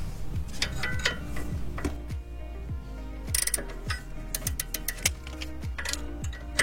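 A ratchet with a 13 mm socket working on the rear brake of an Alfa Romeo 159, giving an even run of quiet clicks at a steady pace, close up and with no talking.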